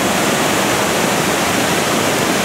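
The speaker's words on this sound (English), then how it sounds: "this waterfall just goes up and up" A tall waterfall roars loudly and continuously nearby, a thick, steady rush of falling water with no talking over it.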